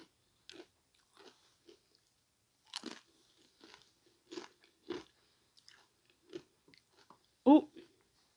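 Crunchy tortilla chips being bitten and chewed close up in a series of sharp, separate crunches with pauses between, ending on one loud bite, alongside a little quiet talk.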